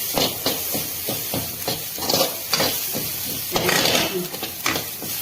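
Grated coconut roasts in a pan on high flame for a sardine chammanthi powder, with a soft sizzle beneath repeated scraping stirs of a spoon against the pan, coming in a steady rhythm close by.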